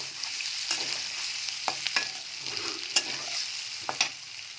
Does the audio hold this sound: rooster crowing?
no